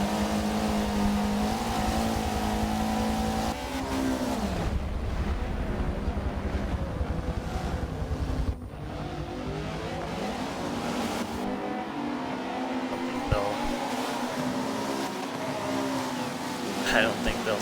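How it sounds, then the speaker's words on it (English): Race cars including a pair of Audis in a TCR sports car race at Laguna Seca, engines revving and shifting as they pass, loud then fading with wind buffeting, under a commentator's voice. "Watts now out in front of the pair of Audis."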